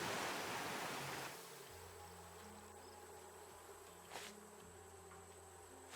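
Insects buzz in the video game Raft, a steady faint drone with tonal hum lines running throughout, after a louder rushing wash at the start, with a brief burst near the end.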